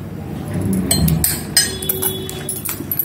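A spoon clinks against a glass while soaked basil seeds are added for falooda, giving several light, close taps and scrapes spread over a few seconds, with no speech.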